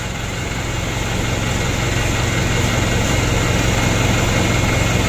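Small engine running steadily after its throttle cable bolt was adjusted, a close, buzzy idle with an even rapid pulse that stays constant and fills the whole stretch.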